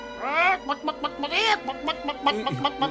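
A cartoon chicken from a Smurfs episode clucks and squawks in a rapid series of close, bright calls, with a couple of drawn-out rising squawks among shorter clucks.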